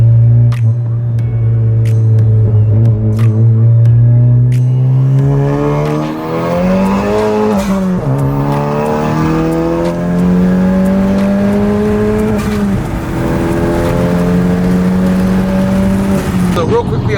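A modified 10th-generation Honda Civic Si accelerates hard onto a freeway, its engine note climbing loudly up through the gears with short dips at each shift, heard close from inside the car.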